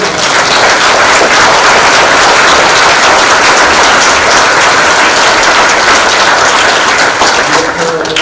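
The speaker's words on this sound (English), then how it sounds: "How about a round of applause for all of you?" A large crowd at an ombudsman award ceremony claps loudly and continuously, a thick, sustained wash of applause close up that tapers slightly at the end.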